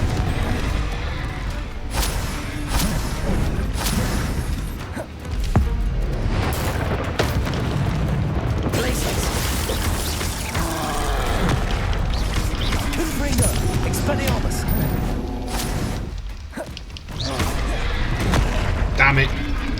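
Confringo fire-spell explosions burst repeatedly during a Hogwarts Legacy combat sequence, loud booms and crackling blasts in dense succession over game music and effects, with a voice calling out spells throughout.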